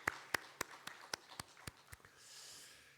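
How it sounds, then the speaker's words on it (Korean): A church congregation claps during a special dawn prayer service, giving about eight evenly spaced, fairly distant claps that thin out and fade into quiet room noise. "우리 하나님 앞에 영광의 박수 한번 올려드리겠습니다."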